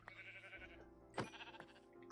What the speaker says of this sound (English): Oh, look at all these sheep.